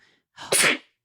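A single sharp human sneeze, close and loud, with a short intake of breath just before the burst and quiet afterward.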